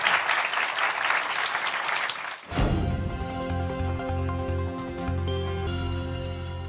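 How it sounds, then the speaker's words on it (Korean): Audience applause at a live economics lecture concert, loud dense clapping that cuts off sharply midway, giving way to a musical sting with sustained tones. "박수 한번 다시 부탁드리겠습니다."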